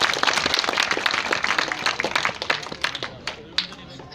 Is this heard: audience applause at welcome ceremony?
yes